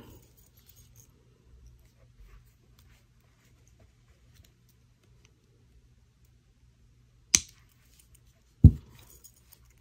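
Wire cutters snip the wire tail off a handmade bird-themed necklace, two sharp, close clicks about a second apart in an otherwise quiet room.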